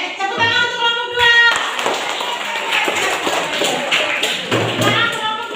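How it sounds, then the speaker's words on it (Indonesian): A classroom of students claps for a student group during a school lesson, a dense burst of hand claps lasting a few seconds amid background noise. "tepuk tangan untuk kelompok 2"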